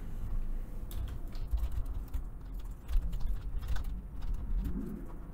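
A computer keyboard clicks in quick, irregular bursts of light keystrokes, fairly faint, with soft background hum and no talk.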